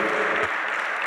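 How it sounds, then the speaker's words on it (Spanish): An audience at a children's and youth football event applauds, a brief burst of dense clapping that thins out after about half a second. "Fuerte el aplauso"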